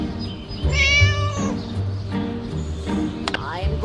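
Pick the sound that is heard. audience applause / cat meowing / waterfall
cat meowing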